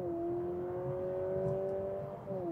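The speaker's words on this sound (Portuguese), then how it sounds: "Esse barulho não existe, porque o motor não faz esse barulho. É um barulho simulado que a Honda fez." A new Honda Civic in sport mode accelerates with a simulated engine note, a smooth rising synthetic hum that climbs steadily in pitch, heard from inside the car over a low cabin rumble.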